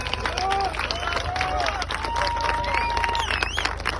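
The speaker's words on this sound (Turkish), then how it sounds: "Bir alkış alabilir miyim?" An audience claps and cheers in a steady burst of applause at a gathering, the clapping dense and continuous, with a few voices talking over it.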